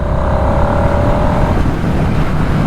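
A 2024 Harley-Davidson Nightster Special 975 motorcycle engine drones loud and close with a steady roar, its pitch rising briefly before leveling off.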